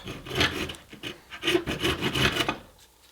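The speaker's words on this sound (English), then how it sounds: "once I got this clamped down, this saw really picked up" A Bahco Laplander folding saw cuts through clamped wood in a few quick rasping strokes, close and moderately loud, then stops.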